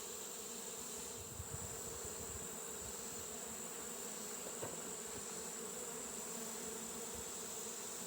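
Honey bees buzz steadily at an open Layens hive during an inspection, a constant close insect drone throughout with a faint tap partway through.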